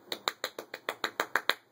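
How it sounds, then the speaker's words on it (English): A golf clap: soft, quiet clapping of about ten light, evenly spaced claps in quick succession, alone without talk. "golf clap. Very good"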